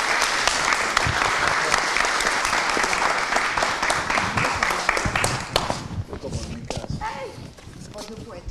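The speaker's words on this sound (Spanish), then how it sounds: "muy fuerte aplauso." A very loud round of welcoming applause from an audience at a talk on horizontal property consortium rules, strong and dense at first, then thinning into scattered claps and shuffling as voices begin to emerge near the end.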